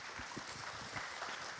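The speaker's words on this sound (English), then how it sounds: "Ladies and gentlemen, give applause to this fantastic team." Applause from an audience at a technical session on ESG and the green economy, a steady wash of clapping at low level throughout.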